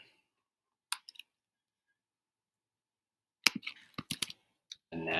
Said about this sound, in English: Click on it.